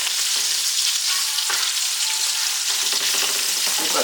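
Pre-cooked mango habanero sausage browning in a pan over medium heat gives a steady, close frying sizzle with faint crackles and a few soft stirring scrapes throughout.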